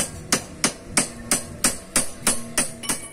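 A hammer strikes metal in a workshop while a motorbike part is fabricated from a Yamaha Mio engine, ten evenly spaced ringing blows landing close and clear without talking.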